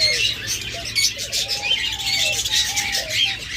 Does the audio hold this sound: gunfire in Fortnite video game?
no